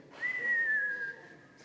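A person whistles a single clear note at a university vespers service. It rises briefly, then glides slowly downward for about a second, close and fairly loud against a quiet room.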